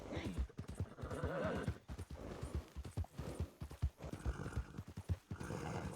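In a Red Dead roleplay game, a horse gallops with rapid, rhythmic clip-clopping hooves and whinnies, the hoofbeats sharp and close with uneven pauses, fairly quiet overall.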